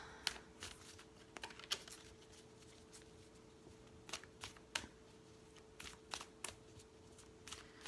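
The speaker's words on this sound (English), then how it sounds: "I'm gonna do a little shuffle shuffle." Tarot cards being shuffled by hand at close range, a series of quick papery riffles and soft flicks in uneven bursts over a quiet background hum, with no talking.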